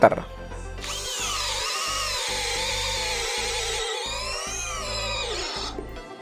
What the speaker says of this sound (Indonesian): saya mengebor medianya adalah kayu mahoni ketebalan 15 cm